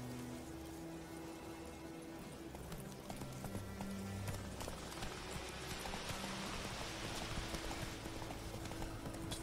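Hoofbeats of the horse Roach galloping in The Witcher 3, a steady clip-clop rhythm that grows louder midway, with faint rain-like hiss and game music tones underneath.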